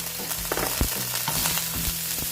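Ginger sizzles and crackles in hot oil in a pan, a steady close frying hiss with scattered pops and stirring clicks, no voices.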